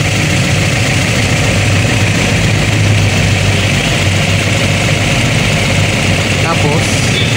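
Car engine idling at about 800 RPM during an ignition timing adjustment, a loud, steady low rumble that runs unbroken throughout.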